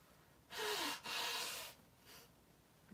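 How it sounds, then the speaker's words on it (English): Two forceful nose blows into a tissue, a long honking blast then a second one, followed by a fainter snuffle, close up with no talking. "I gotta blow my nose."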